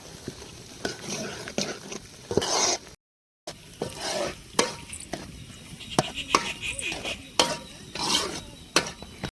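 A village-style goat blood fry is stirred and scraped in a pot, giving a steady sizzle with repeated sharp utensil scrapes and clinks. A voice talks over it, and the sound cuts out briefly partway through.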